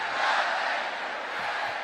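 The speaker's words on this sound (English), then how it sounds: "on three, happy birthday, Good Game" At the PAX Australia 2015 gaming convention, a large audience shouts a happy-birthday greeting in unison: a dense, loud burst of many voices that holds for nearly two seconds.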